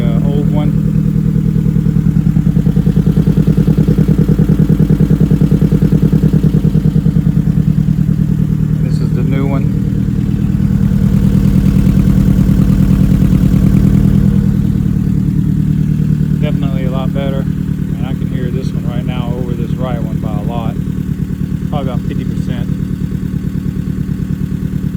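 A motorcycle engine with a loud, redone exhaust runs steadily and up close for the whole stretch, with a deep, heavy rumble that swells slightly mid-way. A voice talks briefly over it near the end.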